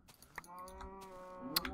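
Minecraft cows moo in a video game, a sustained bovine call with steady harmonic tones lasting most of the moment, mid-level and fairly close, with small clicks at the start and end.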